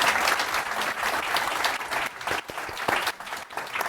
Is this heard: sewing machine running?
no